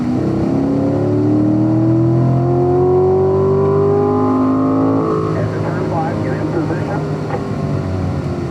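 Corvette Stingray on a race track, engine revving hard with rising pitch as it accelerates downhill, loud and close, then a gear change around midway with rougher, fluttering exhaust after it.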